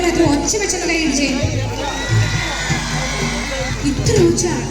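Women in a live concert crowd at Yakkara, Palakkad cheer and shout with scattered clapping, a noisy mass of voices rising and falling over a low hum.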